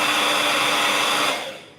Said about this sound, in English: I'm gonna take the dryer. Just gonna dry it up a little bit. It's gonna be loud